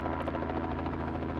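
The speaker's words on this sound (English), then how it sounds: "the chopper slowly maneuvers to the landing site on the darkened slopes of the mountain" A small helicopter maneuvers toward a landing site on the darkened mountain slopes of Cathedral Peak, its rotor thumping steadily and loudly, with a continuous engine drone throughout and no voices.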